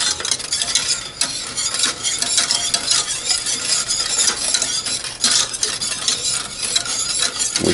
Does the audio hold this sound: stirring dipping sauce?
yes